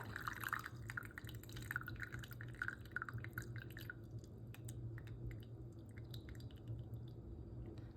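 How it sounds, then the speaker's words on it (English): Tea drips from a personal teapot after steeping, small quiet liquid drops falling in a quick irregular patter that fades out partway through against a low hum. "Flip the lid over. Drip, drip, drip."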